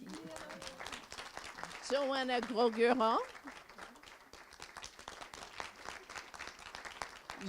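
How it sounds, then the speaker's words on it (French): Audience applause at the 2015 Prismal award ceremony patters steadily in the background while a presenter speaks over it, swelling briefly in the middle. "Qu'on peut applaudir"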